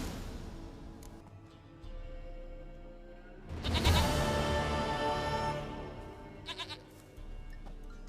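A goat bleats in The Witcher 3, a loud, wavering cry that bursts out midway and runs for a couple of seconds over a low game ambience, with a shorter bleat trailing after.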